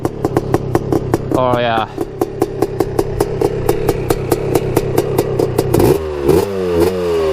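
A Honda TRX250 ATV with a big bore 330 two-stroke engine runs close by with a rapid, sharp popping idle and brief revs. Someone speaks briefly over it.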